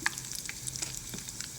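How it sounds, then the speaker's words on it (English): Stuffed potatoes, cooked three at a time, fry in oil in a pan, giving a close crackling sizzle dotted with small pops and light scrapes. "make sure that they fry really well and get nice and crispy on one side"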